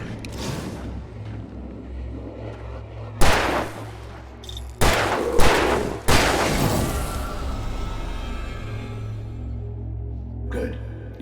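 Gunshots in Alan Wake Remastered: three or four loud, heavy reports spaced a second or two apart, each leaving a long rumbling echo over a steady low drone, with a faint sharp sound near the end.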